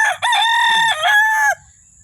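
A gamecock rooster crows once, loud and close, in a long multi-part cock-a-doodle-doo that rises, holds, then cuts off, followed by a faint quiet tail.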